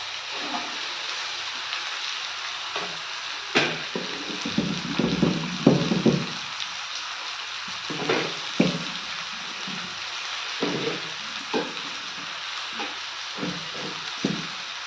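Cut brinjal and potato stirring and frying in a tomato masala: soft sizzling under a series of irregular scraping and clattering stir strokes, moderately close and fairly quiet.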